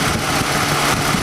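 A car's engine idles steadily during an air-conditioning recharge, a close, even low rumble with a constant hum and no break over the short stretch.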